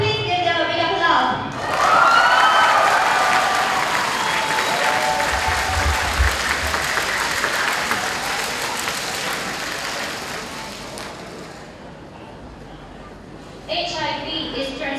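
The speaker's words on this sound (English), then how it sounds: "Please give them a big applause." An audience at a public speaking and debating championship claps loudly for about ten seconds, a dense sustained wash that fades out, with talking before and after.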